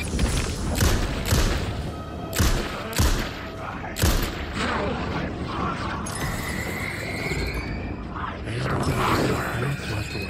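A flashbang goes off in the video game Alan Wake 2, a sharp burst followed by a ringing, hissing high tone that lingers over several seconds, with earlier thuds and impacts and talk in the background.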